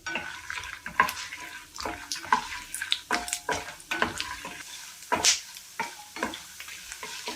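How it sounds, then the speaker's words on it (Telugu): Chana dal, urad dal, mustard seeds and peanuts frying in hot oil, a steady crackling sizzle with sharp popping bursts and the clatter of a spoon stirring in the pan, close and fairly loud throughout. "ఆయిల్ వేడైన తర్వాత అందులో శనగపప్పు మినప్పప్పు ఆవాలు ఇంకా పల్లీలు వేసుకుని ఫ్రై చేసుకోవాలి"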